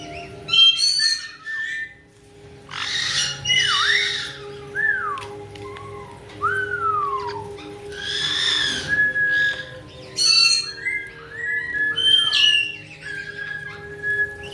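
A pet parrot squawks and whistles in a quick run of bright, rising and falling calls and harsh bursts, close and fairly loud, with short pauses and a faint low hum underneath.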